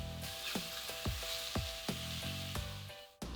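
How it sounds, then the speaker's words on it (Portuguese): Calabresa sausage frying in a pan over low heat, a steady close sizzle with a series of soft crackles and stirring scrapes recurring every half second or so. "Aqui eu vou fritar por uns 3 minutos em fogo baixo."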